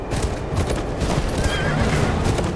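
A horse whinnies in the Game of Thrones: Kingsroad video game, its cry mixed into a dense, steady wash of loud game ambience and clatter.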